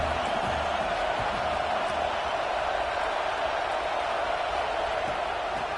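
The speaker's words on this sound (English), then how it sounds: "This crowd trying to make life miserable for this offense." A college football stadium crowd roars as one continuous, dense wash of voices, loud and unbroken, pressing on the offense without distinct claps or shouts standing out.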